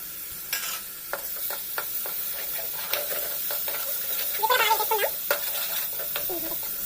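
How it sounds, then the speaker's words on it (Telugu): Onions frying with tomato paste in a pan for a Telugu-style fish curry with raw banana: steady close sizzle under repeated stirring scrapes and clinks, with no talking. "మనకి ఉల్లిపాయలు కొంచెం బాగా ఏగితేనే బాగుంటుందండి పచ్చివాసన పోయి కలర్ మారే వరకు వేపుకోవాలి"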